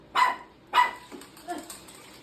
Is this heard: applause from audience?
no